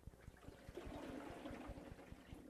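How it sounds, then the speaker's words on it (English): The sealed balance ring of a 1999 Maytag Neptune washer sloshes as the tub is turned by hand, a soft watery swish running steadily beneath a train of evenly spaced low thumps. "It's the sound of the sealed balance ring that helps your washer run smoothly and efficiently."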